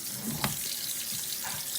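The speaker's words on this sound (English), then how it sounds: "rinse my blackberries. Rinse them with cold water in a" Cold tap water running over blackberries in a colander at a kitchen sink, a steady hiss of flowing water with a brief splash near the start, close and moderately quiet, no talk.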